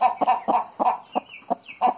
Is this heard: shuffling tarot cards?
no